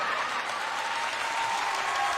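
A short burst of group clapping in honour of a colleague named Crystal during a weekly team update. The applause is brief, even and continuous, with no pauses.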